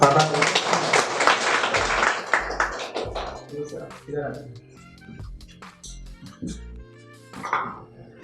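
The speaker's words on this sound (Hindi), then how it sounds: "ताली बजा रहा हूँ।" Applause from a group of people at a student certificate function in a computer institute, dense clapping at the start that thins out into scattered claps, with talk and a dog barking now and then.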